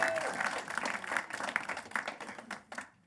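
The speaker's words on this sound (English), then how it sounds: "Give Dylan a round of applause." Audience applause in a comedy club, a ragged burst of claps with some crowd noise that thins out and stops near the end.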